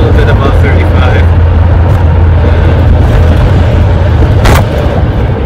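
A 1987 Camaro's engine rumbles loud and steady as it drives along at a little above 35, a deep continuous roar that barely changes throughout.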